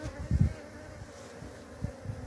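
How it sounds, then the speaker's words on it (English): Bees on a man's hands give a low, close hum that swells in short bursts, heard alone without speech. "You see, these are bees on my hands."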